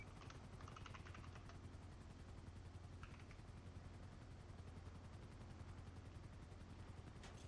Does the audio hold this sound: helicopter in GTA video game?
yes